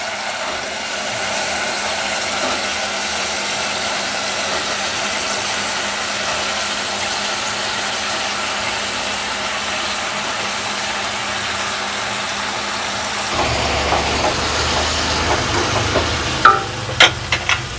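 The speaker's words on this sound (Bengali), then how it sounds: "আমার সবজিগুলো কষানো হয়ে গেছে" Mixed vegetables stir-fried in a pan for a hilsa fish recipe: a steady, dense sizzle runs throughout, with scraping and clattering stirring sounds near the end.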